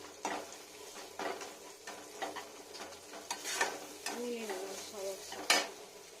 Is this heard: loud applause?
no